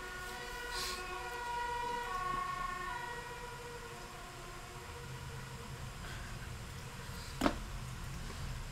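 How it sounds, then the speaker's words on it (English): Emergency vehicle sirens wailing at a distance as street ambience, with steady overlapping tones that hold at moderate volume throughout and a brief sharp click near the end, and no talking. "Those sirens are so loud."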